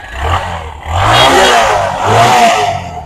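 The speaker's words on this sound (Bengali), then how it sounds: "আপনাদের দেখাই ইঞ্জিনের সাউন্ডটা" A used Bajaj Discover 135 motorcycle engine is revved up close in roughly three loud swells, each rising and falling with a throaty, clattering tone.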